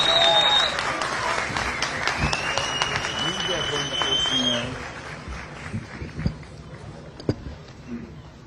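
A dense, steady round of applause fills a hall as Ali Koç is welcomed to the podium at a statue unveiling ceremony, then thins out into scattered claps and room noise.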